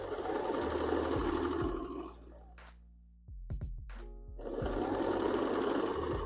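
A sewing machine stitches in two loud, close bursts of rapid mechanical whirring, separated by a quieter gap holding a few soft knocks and clicks.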